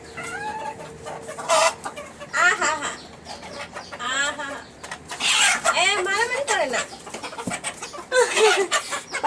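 Hens cluck and squawk in bursts, close by, with a voice talking over them throughout.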